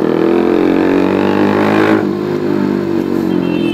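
A motorcycle engine drones loud and close while riding, a steady harmonic hum that drops in pitch midway as the throttle eases, with wind rush throughout.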